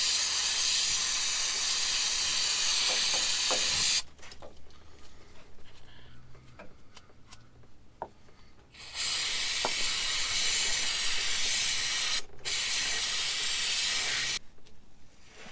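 Pressure spray blasting down a greasy Nissan VK56 engine bay during oil cooler leak repair, a loud steady hiss in long bursts with brief pauses between, close by and without talk.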